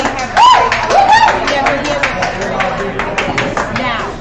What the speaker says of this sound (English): I didn't get applause like that.